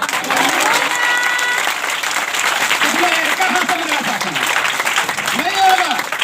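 A church congregation claps with both hands during a prayer service: dense, steady clapping runs the whole time while voices talk or sing loudly over it.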